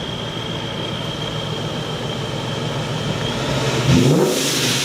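A tuned car leaving a dyno session idles with a steady engine drone, then revs up loudly near the end as it pulls away close by.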